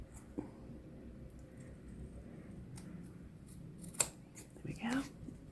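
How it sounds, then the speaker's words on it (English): A few quiet, crisp snips of long-handled scissors cutting paper, spaced out against a hushed room background with light rustling. "I have a pair of long handle scissors for this kind of job"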